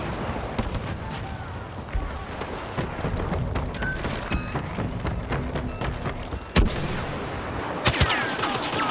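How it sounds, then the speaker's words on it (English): Gunfire in the Star Wars Battlefront video game: scattered shots and sharp bursts crack over a busy background of battle noise, with a couple of louder blasts late on. "Stop shooting me!"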